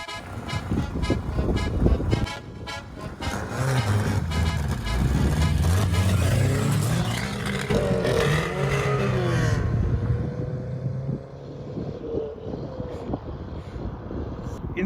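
A tuned ZAZ Tavria and an American car rev and accelerate hard in a drag race, engines roaring loud and close with rising and falling pitch, gear changes and wind buffeting on the microphone.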